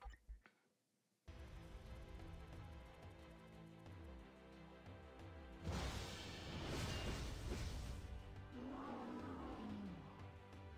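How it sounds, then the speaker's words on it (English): A creature in a Marvel video game lets out a loud, sustained roar amid game effects and music, swelling midway with a broad rushing burst and trailing off into a lower growl. "Been a long time since I've even heard this fool roar"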